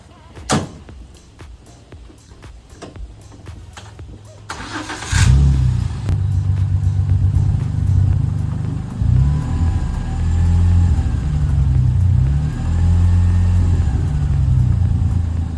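Jeep with a throttle fault, just out of limp mode after code clearing, driving around a yard: a low steady engine rumble under a loud rolling drone, preceded by a few faint clicks and knocks.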